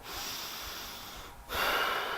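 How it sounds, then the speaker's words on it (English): Close breaths in and out through the nose during a cool down stretch, a soft airy exhale followed by a brief pause and a stronger inhale. "breathing through the nose only"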